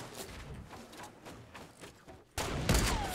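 Gunfire in the video game Fortnite Battle Royale, a series of rapid muffled shots followed by a sudden louder burst of fire near the end, with no clear talking.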